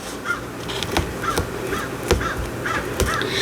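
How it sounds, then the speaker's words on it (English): A crow caws repeatedly outdoors, roughly six harsh calls in an irregular rhythm, with occasional sharp knocks and a steady background hiss beneath them. "That crow has been crowing all freaking day."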